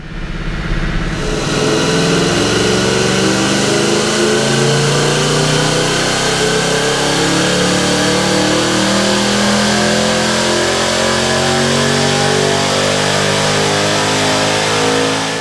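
A supercharged 2016 Ford Mustang GT engine revs hard on a chassis dyno, a loud, sustained roar that climbs and holds steady through the gears for the full stretch, with no talking.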